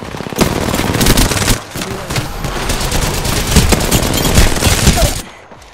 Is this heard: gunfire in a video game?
yes